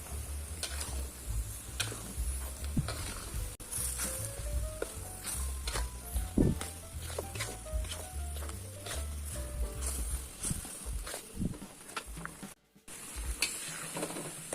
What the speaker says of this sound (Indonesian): Dalam proses menumis bumbu rendang tiruan, di dalam sudah ada banyak bumbu yang standar